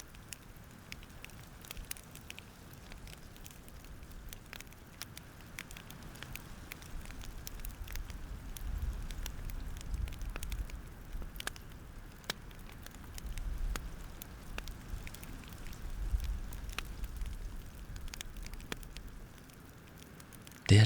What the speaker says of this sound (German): Lausche dem Knistern der Flammen und dem gelegentlichen Knacken der Äste im Feuer.